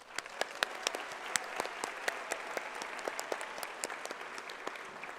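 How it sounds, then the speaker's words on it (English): Thin, scattered clapping from an audience at a presidential scholars induction ceremony; individual claps stand out crisply, quiet and somewhat distant, in a steady but sparse patter. "One last round of applause for our new presidential scholars"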